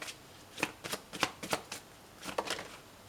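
A tarot card is drawn from the deck, a quiet series of crisp card riffles and flicks in two short bursts, close and alone.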